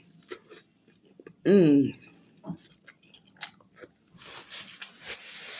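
Someone bites into a Subway footlong sandwich with a close crunch, then chews with soft wet sounds and contented murmurs.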